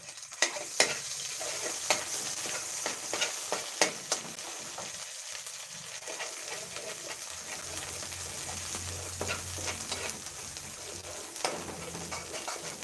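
Thai curry paste stir-fries in a pan for a spicy pork and eggplant stir-fry, with a steady, moderate sizzle and repeated spatula scrapes and taps that run close throughout.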